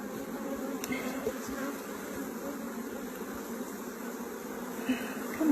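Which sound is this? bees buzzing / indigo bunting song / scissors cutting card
bees buzzing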